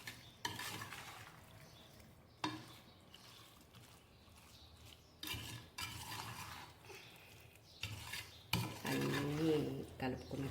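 Drumstick pickle being mixed in a bowl, with intermittent scraping and clinking of a spoon or hand against the vessel in several short bursts separated by quieter pauses.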